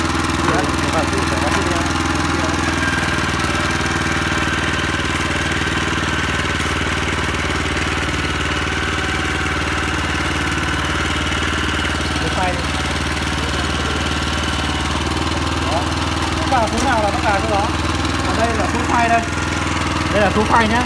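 A RoBin PR18y multi-purpose rotary tiller engine runs with a steady, loud mid-pitched drone throughout, with someone talking over it.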